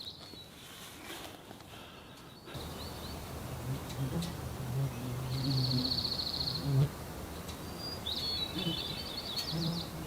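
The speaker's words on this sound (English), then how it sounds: "just listen to the birds and the mosquitoes buzz my ears" Birds call intermittently in the Alaskan wilderness, with a few brief chirps and trills rising over a rustling outdoor background, moderately close and fairly quiet.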